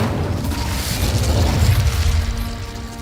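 Incendio fire spell cast in the video game Hogwarts Legacy, a loud, sustained rumbling whoosh of flame with booming low end lasting the full few seconds.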